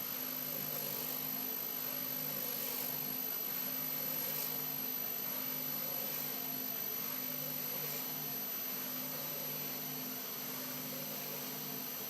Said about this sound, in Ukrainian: тут ковбаска виходить трошки повільніше, тому що оберти шнека менші і також канді набагато тугіші